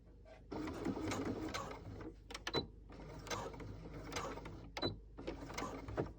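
Sewing machine stitching fabric prepared with double-sided tape, running in three steady whirring bursts separated by brief pauses with small clicks, close and fairly quiet, no voices.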